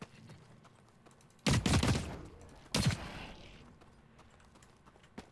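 Two sharp bursts of gunfire go off in the shooter The Cycle: Frontier while fighting a creature, the first burst longer and the second shorter, fairly close against a quiet ambient background.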